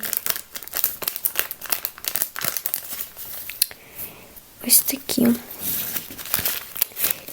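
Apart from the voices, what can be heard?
Nivea sachet packets crinkling while handled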